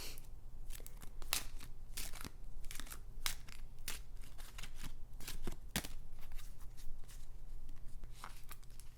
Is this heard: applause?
no